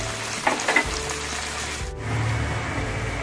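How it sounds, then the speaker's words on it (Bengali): Hot oil sizzles steadily in a pan as onion, ginger and garlic stir-fry, with a few clinks and scrapes of stirring, the frying growing a little louder near the end. "অল্প গ্রেট করে রাখা আদা আর রসুন দিয়ে একসঙ্গে ভালো করে নেড়ে ভাজবো"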